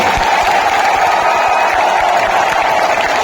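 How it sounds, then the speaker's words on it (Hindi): A large crowd at a political rally in Delhi's Indira Gandhi stadium applauds to welcome the Delhi team, a dense, continuous roar of clapping that stays loud and steady throughout. "एक बार दोनों हाथ से तालियां बजा के दिल्ली की टीम का स्वागत करें"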